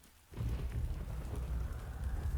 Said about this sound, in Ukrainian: слухаємо звуки дощу